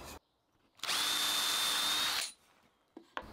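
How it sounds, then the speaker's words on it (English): A power drill bores pilot holes into wooden slats in an off-grid workshop, giving one steady high whine of about a second and a half, close and alone, with faint handling sounds around it. "Now I can line this up onto the end of each board and drill a couple of holes."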